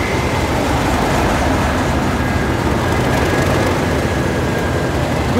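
Class 37 locomotive 37800 passes nearby near Crewe, a steady loud rumble of engine and rolling wagons that holds for the whole stretch with no pause.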